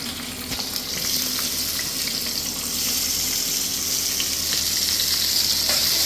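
Onion and bay leaf fry in hot oil for chicken kosha, producing a loud, dense and steady sizzle throughout, with faint scrapes of stirring beneath the hiss.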